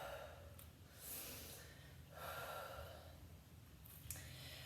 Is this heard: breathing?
yes